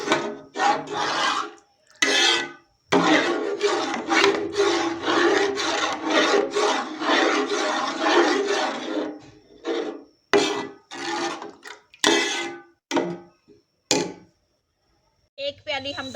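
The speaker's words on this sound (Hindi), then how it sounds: "अब इसे साथ नहीं लगने देंगे और इसी तरह से चम्मच चलाते जाएंगे और इसे पकाते जाएंगे।" A spoon scrapes and stirs grated carrots frying in ghee and gram flour for carrot barfi, making rhythmic close rasping strokes in quick bursts with short pauses between them.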